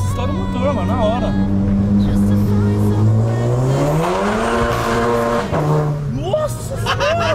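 An Audi TT engine running on aviation gasoline, its exhaust note rising and falling in pitch as it revs, loud and steady with people talking over it.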